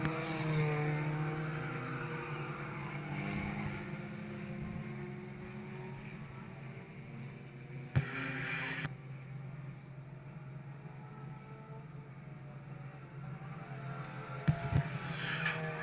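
Race cars lap an oval track in a late-race stretch, a continuous engine drone rising and fading as cars circle, with a couple of brief sharp bangs and no talking.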